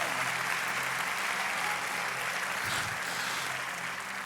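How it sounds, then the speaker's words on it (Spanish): A church congregation applauds in a steady, dense wash of clapping that fills the space evenly from start to end, with a brief swell of voices near the middle. "dale un aplauso más fuerte"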